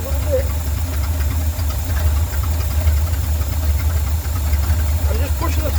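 A small engine idles with a low, steady rumble and faint knocking as the throttle is eased slowly forward, the note staying even and close throughout; a voice talks over it.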